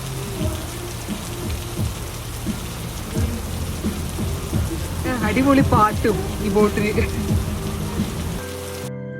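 Rain drums steadily on a houseboat roof overhead in Alappuzha, with people talking and a song playing under the constant patter.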